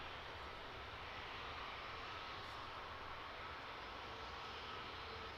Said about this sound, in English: Off to Belfast, this EasyJet A320.